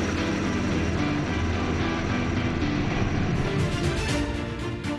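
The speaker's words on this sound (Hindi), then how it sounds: "फर्स्ट आर्मी व्हीकुलर कंटिंजेंट के ठीक ऊपर 4 advanced light helicopter diamond formation के जरिए पेश करेंगे असाधारण" Four Advanced Light Helicopters fly overhead in diamond formation during a Republic Day parade, making a loud, steady roar of rotors and engines that stays constant throughout, with no voices.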